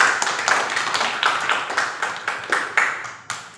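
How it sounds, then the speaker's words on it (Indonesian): Audience clapping for Akila during a school teaching-practice session: loose, uneven handclaps at close range, continuing in a ragged rhythm before thinning out near the end. "tepuk tangan buat Akila"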